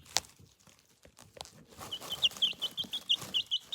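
Pet chickens kept at home for a weekend cluck softly at close range, with scattered pecking and scratching noises and a steady run of rhythmic chirpy calls building in the second half.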